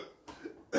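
A short, muffled cough from a character playing a patient in a doctor's examination scene of a TV series, heard as a couple of soft bursts ending in a louder one.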